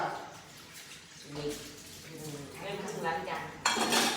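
Dishwashing at a sink, with pots and cutlery clattering and clinking close by over running water, rising into a louder splash of rinsing at the end while people talk in the background.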